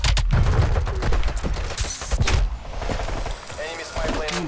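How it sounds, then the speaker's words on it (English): Rapid gunfire crackles in a Call of Duty Cold War match, dense bursts of shots loud and close at the start, thinning into scattered pops, with a player's voice talking over the action. "I'm shooting three people at once, bro"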